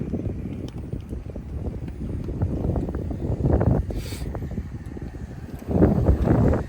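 Low, blustery wind buffeting the microphone, rumbling continuously with stronger gusts toward the end.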